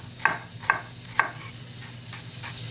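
Mahi mahi fish cooking in a pan on high heat, giving a steady soft sizzle with three sharp clattering knocks early on, then fainter scrapes, with no one talking.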